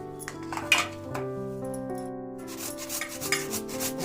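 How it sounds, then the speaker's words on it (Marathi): Coconut is grated on a small hand grater in a home kitchen, giving soft close rubbing and scraping strokes with light metallic clinks over a few seconds, with no talk. "छोट्या किसणीनं खोबरं किसून घ्यायचं म्हणजे बारीक होतंय"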